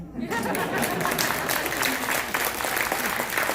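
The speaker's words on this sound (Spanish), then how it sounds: "Sí, un aplauso." A crowd at a book presentation event in Chicago breaks into applause, brisk dense clapping with some murmured voices and chatter mixed in, steady and fairly close for the short stretch.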